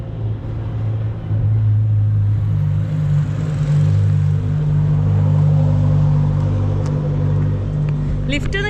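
A vehicle rolls along an empty coastal road in Mexico, a low engine rumble and tyre hum that swells and fades as it passes nearby, while someone talks over it.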